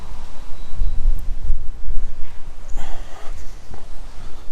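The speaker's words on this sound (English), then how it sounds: "Wind always picks up when I want to film." Wind gusting outdoors across the microphone at a salvage car repair site, a steady low rumbling buffet with occasional stronger gusts throughout, no talking.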